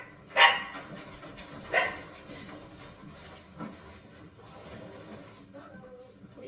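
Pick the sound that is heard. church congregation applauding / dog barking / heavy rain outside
dog barking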